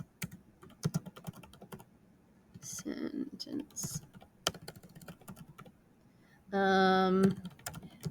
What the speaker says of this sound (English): I'll type it out for you so you don't have to read my printing